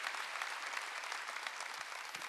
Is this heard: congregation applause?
yes